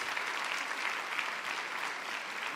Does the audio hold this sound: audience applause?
yes